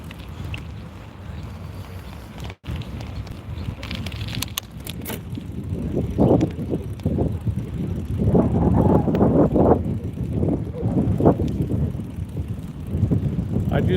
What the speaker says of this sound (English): I just hear the wind, brother.